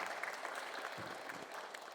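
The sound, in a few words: audience clapping during a speech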